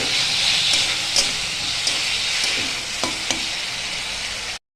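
Tomato paste with salt, turmeric and potatoes frying in oil, a loud, steady hissing sizzle with a few faint stirring scrapes, close up and without talking, cutting off abruptly at the end.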